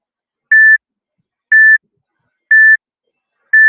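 Workout interval timer during a shoulder-press and lateral-raise session, giving four short, identical electronic beeps evenly spaced about a second apart, clean and alone with no talking.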